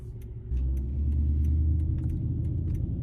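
A supercharged Mercedes CLS55 AMG idles with a low rumble, then the engine note rises into a steady, deeper drone, with faint clicks or jingles overhead.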